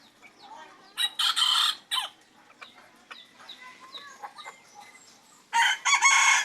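A talisayin bantam rooster crows in short loud bursts near the start and again near the end, with soft clucks and faint chirps in between, no talking.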